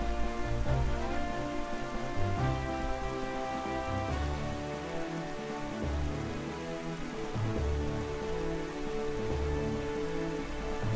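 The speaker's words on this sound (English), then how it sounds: "Go away, rain." Rain falls in the video game Zelda: Wind Waker, a steady soft hiss that runs the whole time beneath layered game music.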